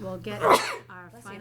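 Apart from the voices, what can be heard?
sneeze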